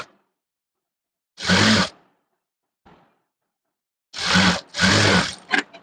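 A sewing machine stitches fabric for a halter-neck baby top: three short, loud whirring runs of stitching, the last two close together, separated by near silence and a faint click.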